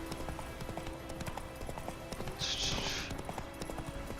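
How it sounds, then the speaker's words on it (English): A horse's hooves clip-clop in The Witcher 3 video game, a steady run of quick close footfalls as the horse approaches, with a brief higher whoosh partway through and background game ambience. "go call my horse. Come here, horse."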